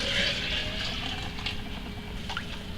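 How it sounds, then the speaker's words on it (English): Almond milk pours steadily into a blender with a soft, continuous splashing rush, close by, with faint clinks and no talking. "I'm going to pour it back into the blender one more time."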